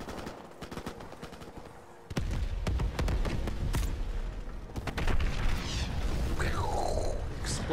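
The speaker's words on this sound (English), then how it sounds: "Explosions." Rapid bursts of gunfire and booming blasts from Call of Duty 4: Modern Warfare Remastered campaign, dense and continuous, growing louder partway through with a rumbling low end.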